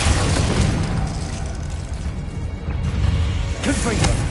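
Blasting-spell explosions from Hogwarts Legacy fill the scene with a loud, continuous crashing roar and deep rumble, a fresh burst flaring near the end.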